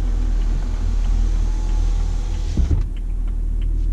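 Power windows whir steadily inside a 2011 BMW 328i xDrive cabin over a low interior rumble, ending with a soft thunk as the glass seats, then near quiet.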